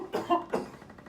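Two or three close, dry coughs from a sick person coughing up blood, followed by a short throaty rasp, alone with no talk.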